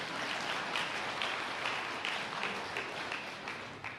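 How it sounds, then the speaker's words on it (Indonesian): A church congregation claps in applause, a quiet, fairly distant, steady patter of many hands lasting a few seconds without speech. "Kalau saudara mau tepuk tangan boleh,"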